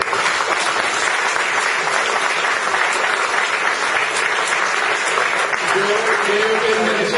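Sustained applause at a Podemos political assembly in Jaén, many hands clapping together at an even, dense pace throughout, with a voice speaking briefly near the end.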